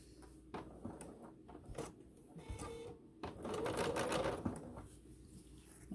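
A BERNINA sewing machine with presser foot #23 stitches mini piping with cord in quilting-weight cotton, quiet close rapid mechanical stitching in short runs with a longer steady run in the middle.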